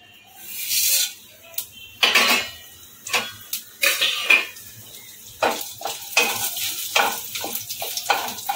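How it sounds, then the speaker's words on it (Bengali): Tempering spices such as chana dal and curry leaves land in hot mustard oil in a pan for potato sagu, with repeated clattering of a spoon against the pan and a light sizzle, close and fairly loud, no talk. "এবার আমি ফোড়নটাকে দিয়ে দেব।"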